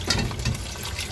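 Water is poured over drained pasta for carbonara, a loud, close and continuous splashing rush.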